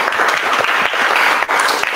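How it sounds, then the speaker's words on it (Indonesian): Applause from pupils in a classroom, a dense, steady patter of many hands clapping close by for two seconds, dipping briefly near the end. "tepuk tangan untuk Rahma"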